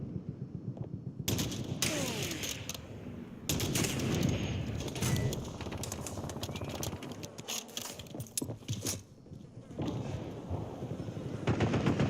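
Gunfire rattles in Call of Duty Warzone on Verdansk, rapid automatic bursts in long sustained volleys with short gaps, loud and near, hinting at LMG fire.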